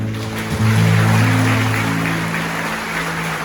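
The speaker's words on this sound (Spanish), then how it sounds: "Un aplauso al Señor." A church congregation breaks into applause, a dense, steady wash of clapping that swells and then gradually fades, with held musical tones ringing underneath.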